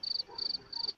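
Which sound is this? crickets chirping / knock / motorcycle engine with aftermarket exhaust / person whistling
crickets chirping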